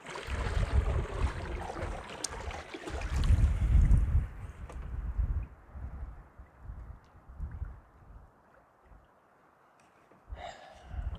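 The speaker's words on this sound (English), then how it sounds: "it's really windy here" Strong wind gusting and buffeting across an open winter campsite beside a canoe route, loud broadband roar that swells around the middle, then eases into quieter rumbling with a brief renewed gust at the end.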